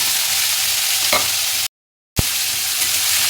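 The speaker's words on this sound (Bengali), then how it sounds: "আলাদা একটা কড়াইতে তেল গরম করে নিয়েছি" Raw tomato and onion go into hot oil in a separate kadai, producing a loud continuous sizzle and stirring scrape, with a brief complete dropout midway before the frying resumes.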